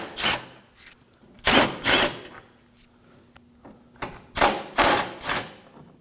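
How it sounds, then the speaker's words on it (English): A power tool spins out 10mm bolts on a 2014–2020 Acura MDX during removal of the AC condenser cooling fan assembly, giving short, loud whirring bursts in uneven groups with brief pauses between, close by. "we're going to be removing these 4 10mm bolts"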